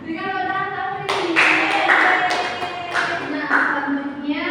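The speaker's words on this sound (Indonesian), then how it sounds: "berikan tepuk tangan untuk isi" A burst of hand clapping breaks out in a first-grade classroom after a moment of voices, children applauding briskly for a few seconds before it tapers off.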